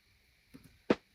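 Snare built from a side stick, shaped with EQ, cassette saturation and compression in Logic Pro, a single crisp hit preceded by a soft faint tap, short and dry.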